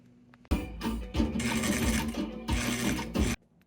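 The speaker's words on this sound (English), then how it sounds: "I'm now going to straight stitch all the way around this on the inside of this" Sewing machine running a straight stitch around a garment sleeve, a fast mechanical chatter in two long bursts separated by a brief pause, close and loud, then stopping abruptly.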